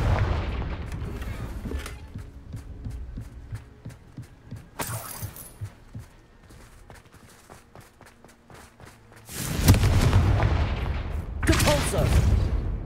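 Confringo fire spell blasts in Hogwarts Legacy, loud bursting impacts with crackling, several hits spaced out and a heavy double blast toward the end, amid softer footsteps and clinks.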